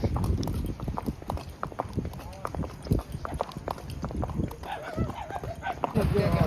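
A Kathiyawadi mare walks at night in Surat, her hooves clip-clopping in a steady, moderately close rhythm while people talk over it and other noise fills the street.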